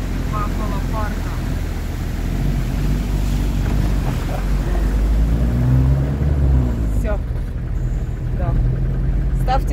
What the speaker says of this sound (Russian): Вперед едем.